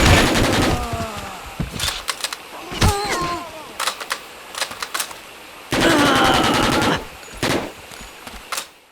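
Bursts of rapid automatic gunfire from a new weapon in the shooter game Hellforces, loud and close, with sharp single shots between longer rattling volleys and no talking.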